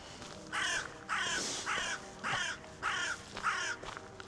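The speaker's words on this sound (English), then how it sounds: "Crow." Six harsh crow caws at a steady rhythm, each a short raspy burst, fairly close against a quiet outdoor background.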